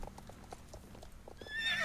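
A horse in the video game Star Stable Online clops along with steady, fairly close hoofbeats, then lets out a loud whinny at the end, with no talking.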